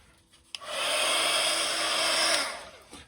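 A hair dryer switches on with a click and blows a steady whooshing hum for about two seconds to dry ink on a mixed media art tag, then cuts off.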